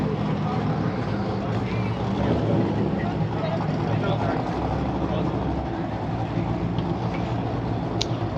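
A car engine rumbles steadily at a Texas cars and coffee meet, a dense, continuous drone heard close by with outdoor background noise mixed in.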